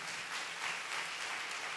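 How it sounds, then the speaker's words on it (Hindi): A congregation at a Sunday church prayer service claps together in a steady, faint wash of applause that runs the whole time, with no voices over it. "तालियां बजा के परमेश्वर को धन्यवाद दे।"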